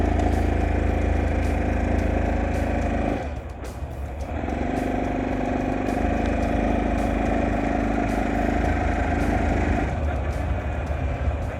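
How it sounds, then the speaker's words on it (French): A Honda Dax 125 motorcycle runs with a steady, buzzy single-cylinder hum, briefly dipping as the throttle changes before settling back to an even drone, close and continuous with no talk. "on se retrouve donc au guidon de ce Honda Dax 125"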